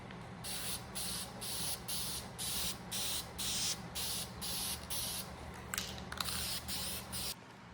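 Rhythmic bursts of an aerosol spray can laying down a first coat of clear coat during a truck shifter repair, about a dozen short hisses in steady succession, close and fairly loud with brief gaps between passes.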